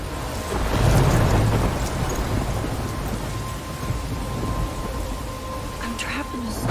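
A thunderstorm with heavy rain in Life is Strange: a deep rolling thunder swell early on over steady, dense rainfall that continues throughout, loud and enveloping.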